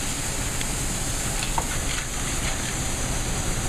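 White wine poured into a pan of golden-browned garlic, in a mussels fra diablo dish, gives a steady, loud sizzle with faint stirring scrapes throughout.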